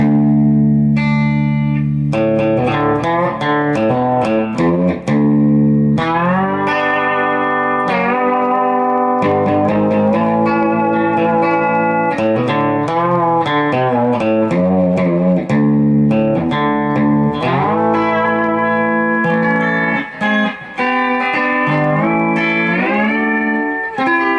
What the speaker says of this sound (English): This is Recording King guitar with the P90